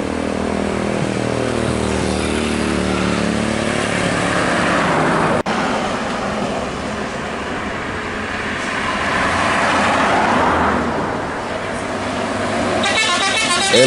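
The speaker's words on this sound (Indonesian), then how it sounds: "ANS Fenomena menjadi bus Minang kedua dari perantauan Jakarta pada hari ini" An ANS Fenomena Minang intercity bus arriving from Jakarta, its broad engine rumble rising and falling as it nears. A sharp click cuts in midway, and the noise swells again toward the end.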